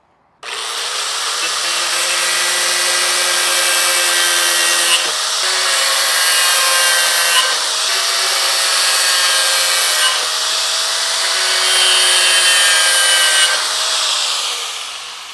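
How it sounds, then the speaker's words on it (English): A power tool grinding off protruding screw ends during a lean-to build, a loud, sustained whine that dips and rises in several short passes before cutting off. "Screws are a little long, but I'll grind those off."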